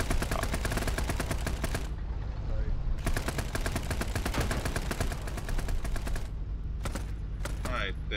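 Tank guns on an M48 Patton in a Vietnam-era military sim game fire in a dense, continuous stream of rapid bursts, with brief gaps between volleys and a final scattered few shots, loud and close.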